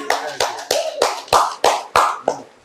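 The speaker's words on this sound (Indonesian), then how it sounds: "Tepuk tangan untuk Bu Dwi." Hands clapping in a steady, slightly uneven rhythm at a morning sales team meeting, applauding a colleague; about eight crisp, close claps that ring briefly, fading out at the end.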